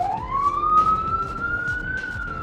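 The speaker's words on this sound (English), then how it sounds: "here comes probably an ambulance from the sound of that" An ambulance siren outside, a single rising wail sweeping up steadily at moderate distance over low background noise.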